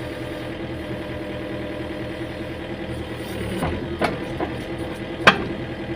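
A backhoe excavator fitted with a grapple attachment runs with a steady, fairly loud engine rumble, broken by a few sharp metallic clanks near the end.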